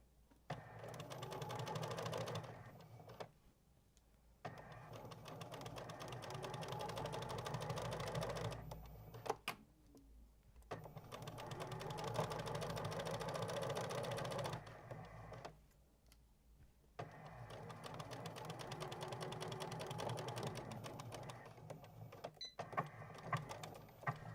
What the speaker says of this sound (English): So what I'm going to do now is sew down the left hand side.